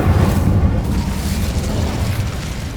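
Casting the Incendio fire spell in Hogwarts Legacy sets off a loud, dense burst of roaring flame. The low whoosh holds for nearly three seconds and fades slightly.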